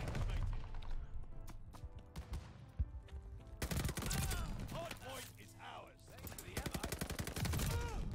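Gunfire from the Type 100 submachine gun in Call of Duty: Vanguard: rapid bursts and single shots crackle through busy in-game action, at moderate level with other battle effects mixed in.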